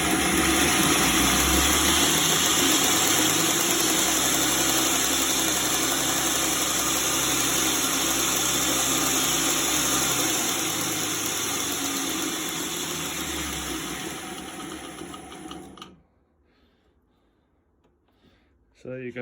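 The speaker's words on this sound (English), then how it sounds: "That's a 2x72 belt grinder." A 2x72 belt grinder with speed control whirs loudly and steadily, its motor hum holding for about fifteen seconds before spinning down abruptly into near silence, then briefly starting again at the very end.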